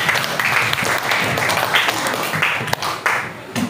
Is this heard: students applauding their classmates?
yes